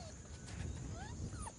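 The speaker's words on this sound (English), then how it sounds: "this pack of 4 hunting dogs are about to be released onto the reserve" A pack of four hunting dogs whimpering and giving thin, high yips a few times over a steady low rumble, fairly faint and moderately distant.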